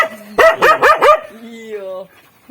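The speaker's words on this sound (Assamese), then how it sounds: "চাই যাওক আমাৰ কুকুৰটোৱে ভুকি আছে এইটো চাওক" A dog near a jackfruit tree gives a quick burst of four close, loud barks, then a drawn-out whining yelp that fades, with a short sound at the very end.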